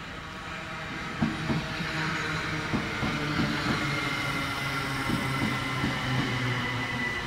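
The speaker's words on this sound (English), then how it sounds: "387222 terminates at Gatwick Airport from London, Victoria." A Gatwick Express Class 387 electric train arrives at Gatwick Airport from London Victoria, with wheels clattering rhythmically over rail joints, a hissing airflow and a low rumble. It stays fairly close and steady, with no voices.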